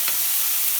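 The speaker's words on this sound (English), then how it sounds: "Our onions are here, ready to go. I'm going to cook those up. Saute those for about a minute or two." Onions sautéing in a hot pan for chana masala, a brief steady hiss of sizzling with one faint stirring tick near the start.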